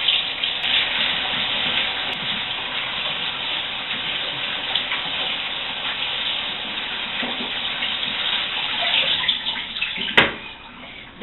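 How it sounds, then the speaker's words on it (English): Salad leaves washed under a cold running kitchen tap, a steady rushing stream of water with occasional splashes and a clunk near the end, close and continuous without speech. "You have to wash it with cold water."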